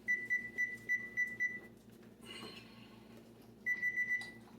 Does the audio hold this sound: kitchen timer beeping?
yes